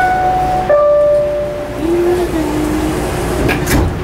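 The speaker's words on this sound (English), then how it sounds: "Stand clear of the closing door." PATH subway train doors slide shut, preceded by a couple of clear ringing chime tones over the low rumble of the idling train car, close by.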